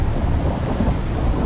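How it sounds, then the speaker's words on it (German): Thunder rumbles low and heavy with steady rain in a storm in the survival game Icarus, a brief continuous roll with no voices. "Da war nochmal ein Blitz."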